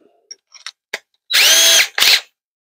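A few light clicks and taps, then two short bursts of a power drill with a step bit whirring as it bores through material on an RV, close up.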